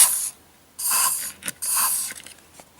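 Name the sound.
spraying XCP rust blocker lubricant through adapter nozzle tube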